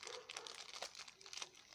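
Plastic packaging of Japanese fishing lures being opened up close, with a dense run of crinkling, crackling and tearing sounds.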